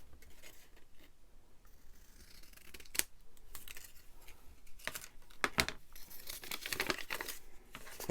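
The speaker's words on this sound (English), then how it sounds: "Fold, cut it into a flag shape." Scissors snip through folded brown and red paper to cut a flag-shaped banner, a run of sharp close crisp cuts and crinkles at an uneven pace, with no talking.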